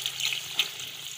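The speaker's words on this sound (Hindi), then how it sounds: "अब हम इसमें पानी ऐड कर देंगे।" Water poured into a pot of spices and yogurt fried for Punjabi chicken pulao: a brief splashing, bubbling hiss with a sharp spitting crackle midway, close and moderately loud.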